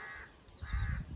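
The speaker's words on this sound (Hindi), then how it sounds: "अब बड़ी चिड़ियों की आवाज़ आ रही है" Adult birds calling near nests in grass, heard as two short, harsh cawing calls close by, one after the other, with some rustling noise underneath.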